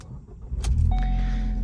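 A 2014 Ford Focus with an aftermarket exhaust fires up: a brief starter whir followed by the engine catching into a steady, close, low idle rumble.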